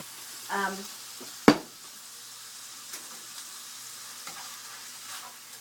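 Ground beef frying in a pan, a soft steady sizzle with a sharp clatter of a utensil against the pan early on and a few faint scraping stirs, with a brief voice at the start.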